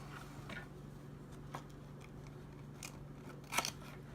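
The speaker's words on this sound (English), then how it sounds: "This one will also be cut out, this little square right here" Scissors snip out a small paper square for a file folder flip journal, giving a few faint, separate cuts with a sharper crunchy snip near the end, quiet and close.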